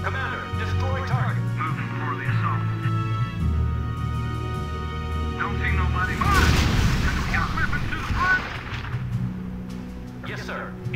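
Artillery and gunfire from the real-time strategy game R.U.S.E. rumble through a dense mix of battle noise, with a loud burst of explosions midway, mixed with radio-style voice chatter and music.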